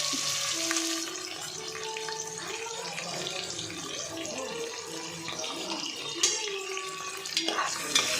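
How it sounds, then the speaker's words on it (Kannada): Chopped onion and potato tipped into a hot pan and fried for tomato bath, a steady sizzle with stirring clatter, water-like splashing, and a voice talking over part of it. "ನೆಕ್ಸ್ಟು ಇದಕ್ಕೆ ನಾವು ಕಟ್ ಮಾಡ್ಕೊಂಡಿದ್ವಲ್ಲ ಈರುಳ್ಳಿ ಆಲೂಗಡ್ಡೆ ಅದೆರಡನ್ನೂ ಹಾಕಿ ಸ್ವಲ್ಪ ಫ್ರೈ ಮಾಡ್ಕೊಳ್ಬೇಕು"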